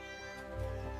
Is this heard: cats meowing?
yes